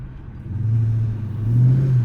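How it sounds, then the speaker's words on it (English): A V8 car engine revs from a low idle into two rising, sustained roars, close and loud inside the car during a night drive. "Trying to get that V8 to start roaring"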